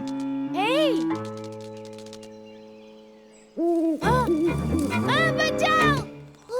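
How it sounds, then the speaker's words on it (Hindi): A cartoon owl hoots in a field at night, a series of loud, wavering tonal hoots that rise and fall in pitch, followed by a quieter sustained tone and then another burst of hooting calls. "वहाँ खेत में एक उल्लू है"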